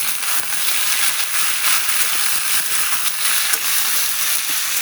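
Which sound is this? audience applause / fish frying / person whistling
fish frying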